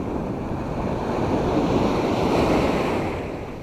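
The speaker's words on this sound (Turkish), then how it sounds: "Güzel bir deniz." Sea waves wash onto the shore on a hazy autumn day while people fish from the coast. A loud, continuous surf roar swells to a peak and then eases, with wind buffeting the microphone and no voices.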